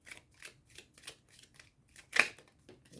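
Oracle cards being shuffled by hand, a quiet run of soft rhythmic riffling bursts about every third of a second, with one louder flick near the end and no voices.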